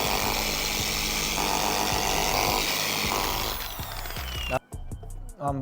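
A machine polisher buffing car paint with a pad drones loudly and steadily, with faint rattles, then cuts off near the end, leaving a few sharp clicks.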